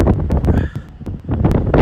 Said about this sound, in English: it's super windy out here, guys